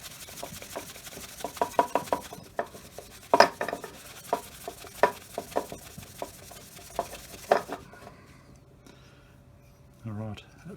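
Wax being rubbed by hand into a new timber handle on an old 4oz cross pein hammer, heard as a run of close, scratchy strokes in an uneven rhythm, stopping near the end and followed by a brief low thump.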